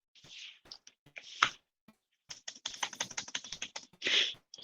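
Bursts of typing on a computer keyboard, quick clattering keystrokes in irregular clusters with short pauses between runs, close and fairly quiet with no voices.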